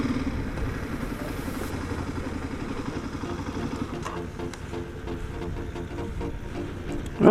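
Motorcycle coasting downhill on a dead-end hill road near Monkey Hill in Hong Kong, its engine a steady low rumble with wind and clatter running throughout, close and continuous.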